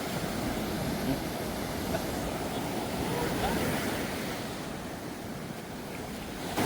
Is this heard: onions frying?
no